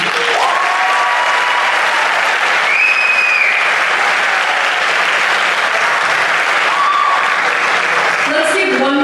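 Graduation crowd at Sequoia applauding scholarship winners: broad, steady applause filling the space throughout, with voices and brief tonal sounds or whistles rising over the clapping.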